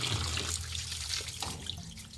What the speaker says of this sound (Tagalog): may gripo sila sa bahay